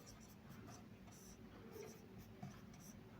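Chalk scratches across a classroom board in quick, faint strokes, a soft gritty rasp repeating in short bursts over quiet room noise.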